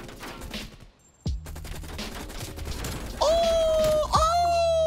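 RPD light machine gun firing in Call of Duty Cold War, bursts of rapid automatic shots with mechanical clatter, a brief pause, then more firing over a whining tone, loud and close.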